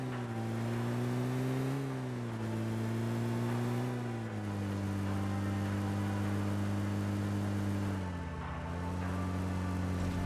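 A car engine in the battle royale game PUBG on the Erangel map hums with a steady tonal drone, rising and dipping in pitch as it accelerates and eases off, continuous and fairly loud, with no talk.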